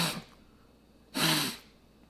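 A voice imitates strong, powerful sniffs, giving two sharp nasal bursts separated by a short pause, close and fairly quiet, with no other talk.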